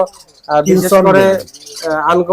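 Lovebirds at a bird sale give loud, close, chattering chirps in two bursts separated by a brief pause.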